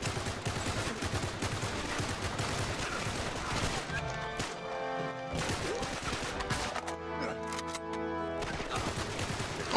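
Gunfire in Uncharted 3, dense rapid shots crackling through busy game action, thinning out partway through before picking up again, with faint speech in the mix.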